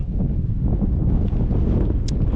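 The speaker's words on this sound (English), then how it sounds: "it's kind of windy today" Strong wind buffets a microphone outdoors near Lake Havasu, a continuous low roar and rumble with no other sounds.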